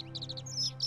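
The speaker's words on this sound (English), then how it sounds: "Oh, the cat hears bird noises." Short bright chirps and tweets from birds in the video game The Forgotten City, a quick run of high calls, faint and brief over a low steady game hum.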